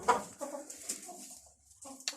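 Farmyard chickens cluck softly and intermittently, a few faint bird calls scattered over quiet background noise with no talking.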